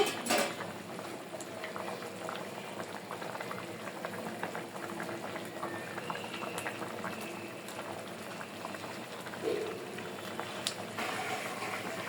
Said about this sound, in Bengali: ঢাকনা ছাড়া দশ মিনিটের মতো হালকা জলে রান্না করে নেব ডিডা মাছের তরকারিটা